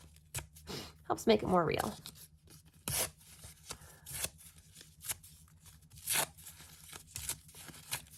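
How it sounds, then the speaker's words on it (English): Paper tears in short ripping bursts with pauses between, close up and crisp against a quiet background hum. "Nothing like a little paper ripping ASMR too."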